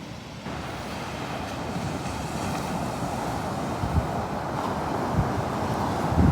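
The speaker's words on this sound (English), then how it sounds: "Nice fall day in St. Augustine, Florida. Mid to upper 70s, light breeze, plenty of sunshine," Ocean waves wash onto St. Augustine Beach, Florida, on a breezy, sunny fall day. A constant surf roar is mixed with wind buffeting the microphone, and a few louder surges come near the end.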